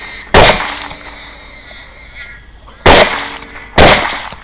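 Three sharp, loud rifle shots ring out during a hog hunt, aimed at sows and a boar, each a sudden crack with a short echoing tail, spaced irregularly over a few seconds.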